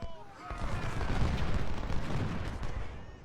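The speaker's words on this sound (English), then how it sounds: "Go ahead and get off the volley" Musket volley from massed infantry in Ultimate General: Civil War, a dense rolling crackle of overlapping shots with low booming rumble sustained throughout, loud and continuous.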